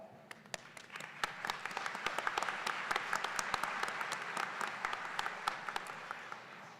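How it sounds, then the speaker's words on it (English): A graduation audience at a Prairie State College commencement applauds steadily, dense clapping filling the hall at an even level for several seconds with no talk over it. "Please applaud."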